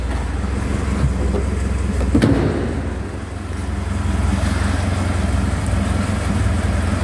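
A 1979 Triumph Dolomite Sprint ticks over at idle with a steady, even engine rumble that stays close and continuous throughout, with a brief louder bump partway through.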